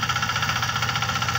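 A small 1-liter diesel engine on a mini power tiller runs steadily, a continuous loud mechanical drone with a rapid knocking pulse and no pauses.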